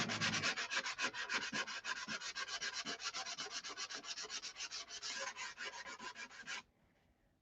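Steady, rapid back-and-forth rasping of sandpaper rubbed over wood, many quick strokes in a close, even rhythm, then it stops and goes quiet.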